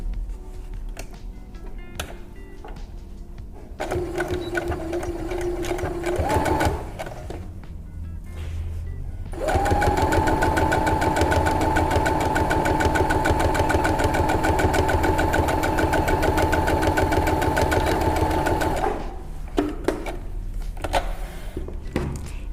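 A domestic sewing machine stitches a French seam on a dress, running in several bursts of steady motor whir, with one long sustained run in the middle and short start-stop stitching around it, close and fairly loud with no talk.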